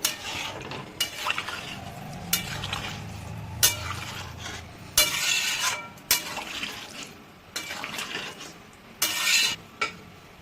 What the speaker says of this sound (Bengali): এবার এটাকে করে দেবো ভালো করে মিক্স